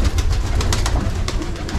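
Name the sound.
male pigeon cooing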